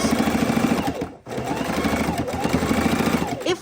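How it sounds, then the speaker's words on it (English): Sewing machine stitching straight across fabric seams, a steady close mechanical whir with a brief pause partway, and a quiet voice in the background. "stick it right under the sewing foot, and I'm going to sew right across my seams"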